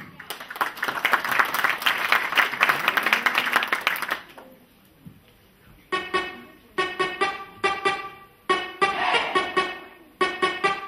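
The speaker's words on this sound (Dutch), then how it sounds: "dames en heren, een heel groot applaus voor Anouk" Audience applause for a dancer on a television show, about four seconds of dense clapping that cuts off and gives way to bursts of music.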